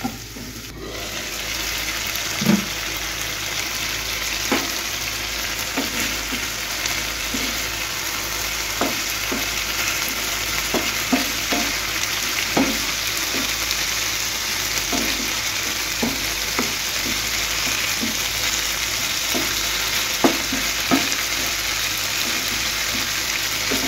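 Lemon chicken frying in a pan with a steady broadband sizzle, stirred now and then with short scraping clicks scattered throughout, close and moderately loud with no talking.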